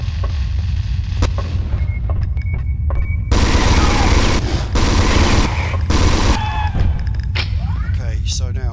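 Gunfire from the Alien Resurrection PS1 video game, with sharp shots and rapid loud bursts over a steady low game drone and a few higher electronic tones.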